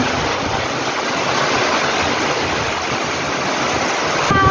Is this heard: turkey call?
no